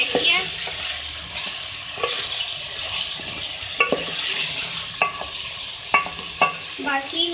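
Onions hit hot oil in a pot of beef masala, sizzling loudly and steadily while a spoon stirs them, with scattered sharp scrapes and taps against the pan.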